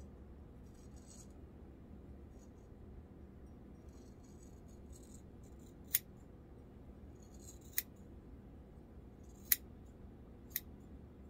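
A few sharp metallic scissor snips cutting hair straight across, spaced apart, against a quiet room background with no talking.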